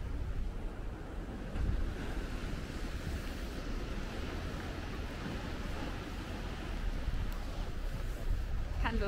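Ocean waves at Bitou Cape in northern Taiwan wash steadily onto the shore with a broad rushing surf, some wind buffeting the microphone, and faint talk in the background.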